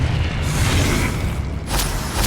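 Confringo blasting-spell explosion in Hogwarts Legacy on Xbox Series X: a loud, deep boom with rumbling low end, followed by sharp crackling bursts near the end.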